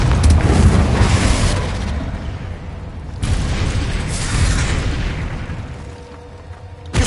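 A Confringo spell blast in a Hogwarts video game, with two loud, deep booming explosions roughly three seconds apart, each rumbling and fading slowly, no voices.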